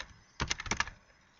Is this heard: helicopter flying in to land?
no